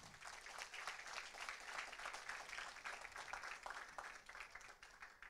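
Audience applause at a retail industry panel event in Petaling Jaya, a steady wash of many hands clapping for several seconds, fairly faint and distant, with no talking.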